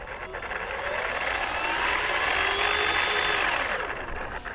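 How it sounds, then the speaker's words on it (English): A stock 750kv electric motor in an FMS Pilatus PC-21 RC plane runs at a steady, loud, high-pitched whine that holds for several seconds with a slight rise in pitch, then starts to wind down at the end. "you're also going to hear the stock motor. Check this out. It's kind of loud."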